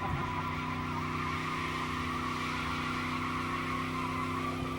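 At the Summernats burnout event, a delivery truck spins its rear tyres in a burnout, giving a sustained high tyre squeal over a steady, droning engine note that holds without pause.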